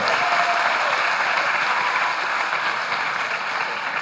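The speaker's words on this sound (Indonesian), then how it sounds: "Tepuk tangan untuk kita semua." Audience at a pesantren talk show and Quran recitation event breaking into loud, dense, continuous applause from a large crowd, evenly sustained from start to finish.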